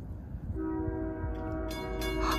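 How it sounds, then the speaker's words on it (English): An MBTA commuter train rumbles steadily nearby as it arrives at Franklin, then a sustained horn sounds loudly over the engine noise, with bell-like tones near the end. "Here comes the train!"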